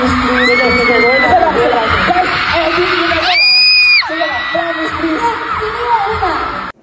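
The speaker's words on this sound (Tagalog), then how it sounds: "Walang tigil ang hiyawan habang patuloy na sumasayaw ang dalawa." A fan crowd at a meet-and-greet show screaming and cheering nonstop while two performers dance, loud sustained high-pitched shrieks and whoops rising to a peak midway, with music underneath.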